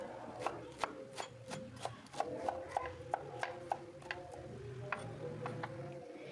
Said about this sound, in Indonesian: Lalu iris-iris 100 gram kubis atau kol